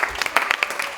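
Pageant audience applauding a contestant's sponsorship pledge, a brief patter of scattered claps, fairly close and moderately loud, with faint talk mixed in.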